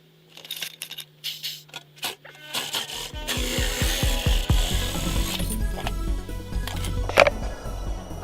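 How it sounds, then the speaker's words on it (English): Metal cutting shears snip through a Subaru STi front splitter: a few scattered scrapes and clicks, then a close, rapid series of crunching cuts with a rough, rasping texture. "I'm going to try using metal cutting shears."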